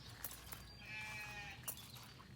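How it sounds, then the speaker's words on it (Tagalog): Goats and sheep on a farm bleat softly just after coming back in from grazing, with a wavering call mid-clip over quiet barn ambience and faint background bustle. "yung mga kambing at tupa natin, nakapasok na po galing sa galaan"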